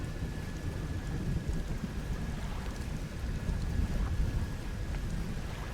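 A thunderstorm in the fishing game Dredge: steady rain and low rumbling thunder roll continuously around a small boat at sea, a dense even wash with no talk.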